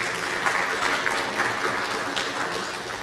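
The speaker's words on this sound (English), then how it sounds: "Let's give them one more round of applause." A city council chamber audience gives a round of applause, with steady, moderately loud clapping that fills the room and continues evenly throughout.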